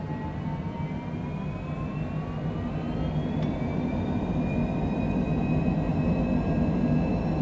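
A Cessna Citation Longitude business jet takes off from Eagle County airport near Vail, Colorado. It makes a steady, broad engine roar, and thin whining tones climb gradually in pitch as the power builds.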